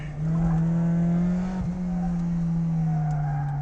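A supercharged Mazda ND Miata runs laps on a race track, its engine holding a loud, steady drone with a brief dip and recovery midway, heard from inside the car without talk.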